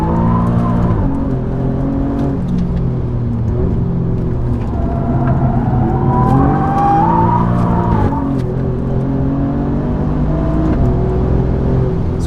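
Alfa Romeo Giulia Quadrifoglio on a rally stage, loud close engine note dropping and rising as the car brakes into a corner and pulls out, with tyre noise, no talking.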